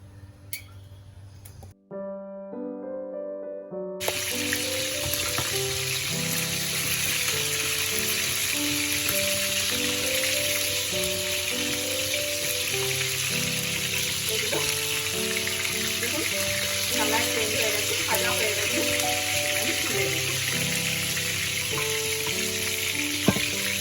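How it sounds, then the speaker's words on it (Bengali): Chicken pieces fry in a generous amount of hot oil in a heated frying pan, a steady dense sizzle and crackle running continuously at close range after a brief quieter start, with no talk over it. "এবার এখানে তেল দেবো, একটু বেশি তেল দেবো। মাংসগুলোকে ভালোভাবে ভাজতে হবে।"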